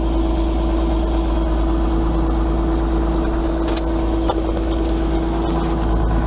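A LW300F wheel loader's engine idles steadily while warming up, a low drone without a break, with a constant hum and faint mechanical rattle throughout.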